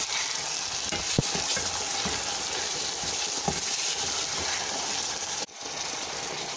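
Carrots, turmeric and tomatoes frying in a pan give a loud, steady sizzle, close up, with a few sharp clicks and stirring knocks and a brief dip near the end.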